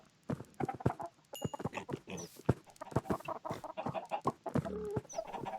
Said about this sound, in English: And there goes the chickens again.